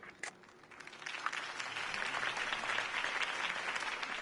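In the Telltale Batman video game, a crowd applauds after a campaign speech. The clapping is faint and distant, swelling after a brief opening burst into a steady, continuous patter.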